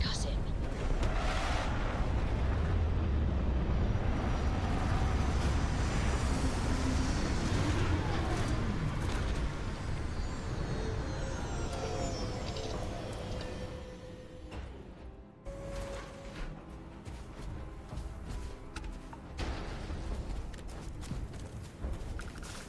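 Starfield spaceship landing: a loud, dense roar of rushing thrust and rumble that builds, then tapers with a brief dip near the end before a steadier hum resumes.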